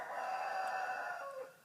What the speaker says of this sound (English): sorry, the chickens are just crazy.